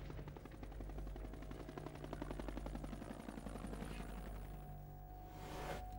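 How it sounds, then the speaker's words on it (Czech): Search helicopters flying over an FBI manhunt: a steady rapid rotor chop with a constant engine drone, moderately loud and continuous, no talking. "Prohledávají okolí pomocí nasazených jednotek a helikoptér."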